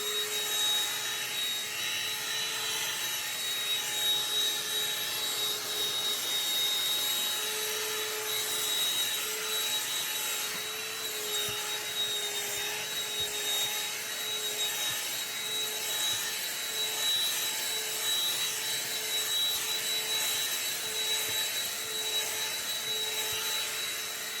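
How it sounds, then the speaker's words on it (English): A BLACK+DECKER dustbuster AdvancedClean cordless handheld vacuum whines steadily at close range with a high-pitched tone, running without a break and accompanied by faint rattling of gravel, dirt and debris being sucked up. "this will be a good real-world test to see how capable this little vacuum is"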